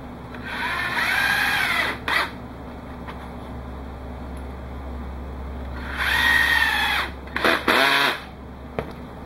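A power drill drives 2-inch wood screws into wood in two main whirring bursts separated by a quiet gap. Short follow-up spins come after the second burst.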